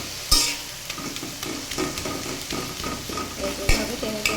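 Jute leaves are stirred with oil and salt in a pan, a close scraping and clatter of a spatula over a low sizzle, with sharp knocks near the start and the end.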